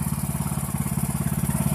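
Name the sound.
Poulan Pro PP175G42 lawn tractor engine idling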